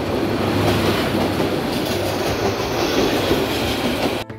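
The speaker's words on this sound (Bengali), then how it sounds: "তারপর একটি ট্রেন চলে যাওয়ার পর আমাদের ট্রেন আবারও চলতে শুরু করে দিল" Passenger train running on rails between Gazipur and Dhaka, a loud continuous rumble and rattle heard from on board, steady throughout and ending abruptly, with no voices.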